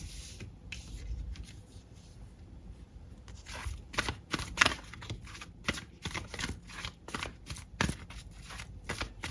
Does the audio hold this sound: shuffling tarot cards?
yes